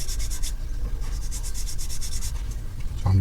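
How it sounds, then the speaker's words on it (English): Hand sanding of a small plastic part from an Airfix 1:72 Spitfire model kit: a steady, close, soft scratchy rubbing in quick back-and-forth strokes, with a light knock at the end. "Again, another bit of sanding where it was."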